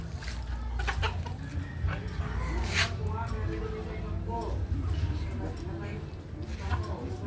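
Chickens cluck repeatedly on a mountain farm, several short calls scattered across the clip, heard close under ongoing talk between people outdoors.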